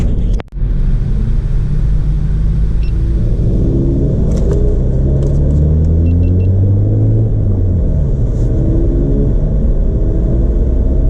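A Renault Megane RS Trophy rumbles loudly on a track day, its engine note rising and falling as it drives laps. The sound is steady and close, with no talk.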